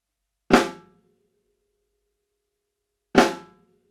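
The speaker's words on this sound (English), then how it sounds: "hitting the direct center and the rim at the same time to get that loud crack" Two sharp, loud snare rim shots, hitting the center and rim at once, each a bright crack with a short ringing tail, separated by a few seconds of silence.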